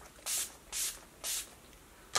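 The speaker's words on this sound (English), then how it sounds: "it's time to set the skin with some setting spray and kind of drown yourself in it" Three quick hissing pumps of makeup setting spray mist onto a made-up face, evenly spaced and close, with a faint fourth spritz starting at the very end.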